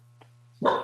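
A pet dog barks once near the end, sudden and fairly loud, heard in the background of a remote town board meeting, after a long quiet stretch with a faint steady hum.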